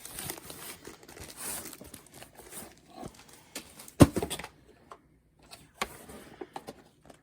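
A package holding a Moon Elf diamond art canvas is opened and its contents unwrapped, soft crinkling and rustling of plastic and paper close by, with a sharp snap or tear around the fourth second and quieter handling after.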